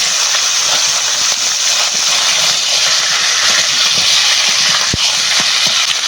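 Bottle gourd and potato pieces hit hot oil tempered with bay leaves, cumin and dried chili, giving a loud, steady hissing sizzle that runs throughout with a few small pops.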